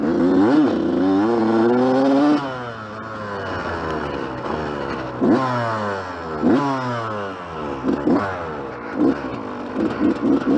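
A Yamaha YZ-125 two-stroke dirt bike engine with a possible exhaust leak revs up and down repeatedly through gear changes while riding, close and loud, with no voices.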